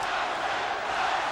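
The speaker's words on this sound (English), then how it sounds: "Many yelling Tyson." A boxing arena crowd roars and yells during the Tyson versus Holyfield rematch, a continuous, dense wall of shouting voices blending into one loud, sustained din.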